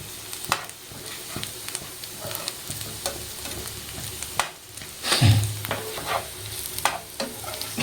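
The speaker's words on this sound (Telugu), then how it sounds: "సో ఆనియన్స్ బాగా వేగనివ్వాలి." Onions frying in a pan for a chicken curry, a soft continuous sizzle broken by repeated scraping and clinking stirs, with a louder clattering stir near the end.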